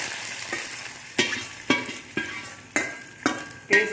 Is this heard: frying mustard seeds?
yes